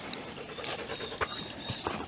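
A Belgian Malinois pants in quick, rhythmic breaths close by on a farm, with a few small bumps and rustles around it and no talk.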